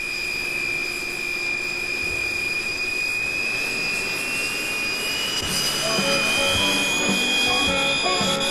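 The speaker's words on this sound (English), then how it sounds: "Look, we're taking off now." An airplane jet engine roars steadily on takeoff with a high sustained whine, loud and constant throughout, rising and swelling toward the end with no talk.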